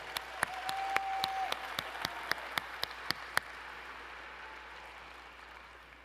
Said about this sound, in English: So please give yourself an applause.